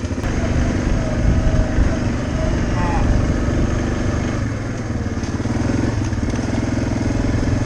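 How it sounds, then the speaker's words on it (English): A farm ATV engine runs steadily while approaching cattle, a loud, continuous buzzing drone that holds close throughout with only slight changes in pitch. "The cows are familiar with this sound of this ATV"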